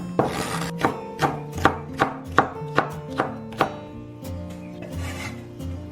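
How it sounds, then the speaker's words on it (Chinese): A knife chops deseeded green and red peppers into small pieces on a cutting board: about ten crisp, evenly spaced strikes in a steady rhythm, close and clear, then a few lighter taps and scraping. "切小块。"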